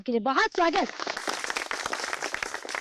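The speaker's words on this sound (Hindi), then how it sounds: "ये तालियों की गड़गड़ाहट" Villagers at an outdoor farmers' gathering in Tejwapur break into steady applause, dense clapping that continues after a brief spoken welcome at the start.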